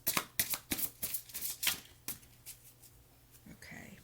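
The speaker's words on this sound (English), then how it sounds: "I also wanted to pull my angel cards because I haven't used these in a really long time." Angel cards shuffled by hand, a quick series of close riffling flicks that slow and soften toward the end, with faint talk near the close.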